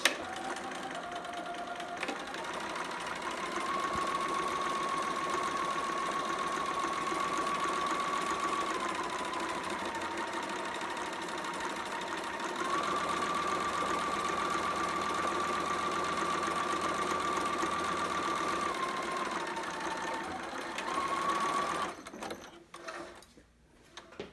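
Sewing machine straight stitching a seam on a two-piece sitter outfit, a long even mechanical hum with a steady whine that holds for about twenty seconds, then slows and stops, ending in a few short clunks.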